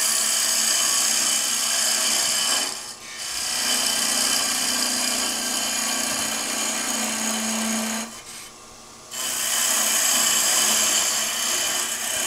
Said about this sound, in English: Let's part this one off as if we were to finish.